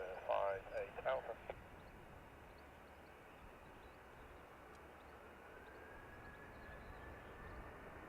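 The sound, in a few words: Blue Islands ATR turboprop airliner landing at Dublin Airport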